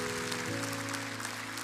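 A church congregation claps loudly and steadily in praise during a worship service, a dense wash of applause over sustained keyboard chords for under two seconds.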